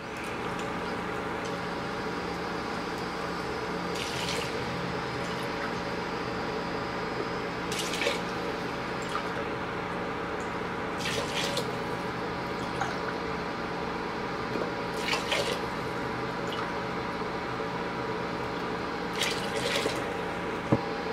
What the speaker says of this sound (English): so now go ahead and add the water